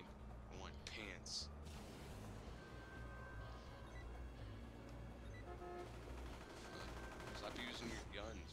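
Rapid bursts of video game gunfire from Champions Online fill the scene, rattling in quick succession over a dense, busy game soundscape while someone talks throughout.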